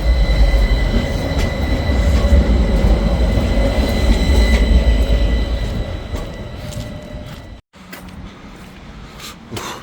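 A tram rumbles past close by in Gothenburg, a steady loud rolling roar with rail noise that fades toward the end, followed by a brief drop and quieter street sound.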